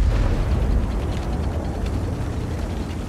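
A HEAT round from a Jagdpanzer E-100 strikes in a tank video game, giving a heavy, rumbling blast that lingers as a dense low roar, loud and close with no talk.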